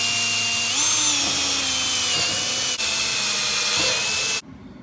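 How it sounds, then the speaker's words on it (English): A power drill with a 7/32 bit whines steadily at high speed drilling pilot holes, loud and close, its pitch dipping slightly under load before it stops abruptly. "you're going to use a 7/32 drill bit"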